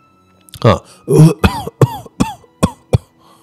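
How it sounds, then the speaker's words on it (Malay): A woman coughs repeatedly in a rapid series of harsh, close bursts, about eight in a row, with a rasping throat-clearing quality, inside an aircraft cabin. "makcik ni batuk non-stop"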